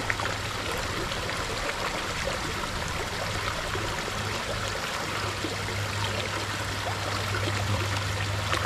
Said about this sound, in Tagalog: mas gusto ko yung tunog ng agos ng tubig sa ilog